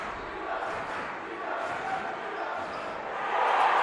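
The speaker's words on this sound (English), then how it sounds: "And you can hear the crowd chant, D up," A high school boys basketball crowd fills a gym with a rhythmic chant for defense, a broad murmuring roar that swells louder toward the end.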